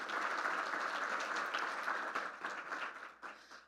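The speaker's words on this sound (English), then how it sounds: "So please, an applause for Esme for everything that she does," A room of people gives warm applause at a city staff gathering. The dense clapping stays steady for a few seconds, then thins out and tapers off toward the end.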